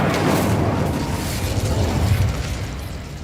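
An Incendio fire spell cast in Hogwarts Legacy, a loud burst that flares up at once and then roars and crackles, slowly fading over a few seconds.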